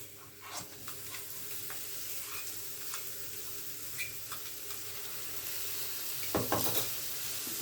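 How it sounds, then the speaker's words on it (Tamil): Onion, ginger, garlic and spices sauté in a pan with a steady close sizzle, broken by light scraping stirs of a spoon and a louder clatter of stirring near the end. "அது நல்லா கோல்டன் கலராக வராதுக்கு வதக்கிக்கலாம்"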